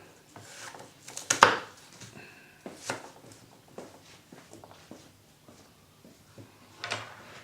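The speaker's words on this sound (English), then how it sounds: "I'm going to chop them up so that they break down nice and easily in the saucepan" A knife chops deseeded chillies with their ends cut off on a board for hot horseradish and chilli sauce, giving a few scattered, fairly close knocks and cuts, one sharper hit standing out among quieter taps.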